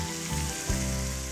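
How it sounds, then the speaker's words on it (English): Speck sizzles hard in hot olive oil in a pan, a steady close fry that stays loud and dense without a break. No one speaks. "Listen to the sizzle."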